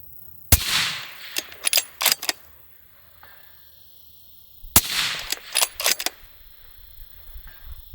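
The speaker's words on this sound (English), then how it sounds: "Go ahead and get shooting with the 2020 Waypoint." Two sharp, loud shots from a Springfield 2020 Waypoint 6.5 Creedmoor bolt-action rifle, spaced about four seconds apart outdoors, each followed by a quick series of metallic clicks from the action being cycled.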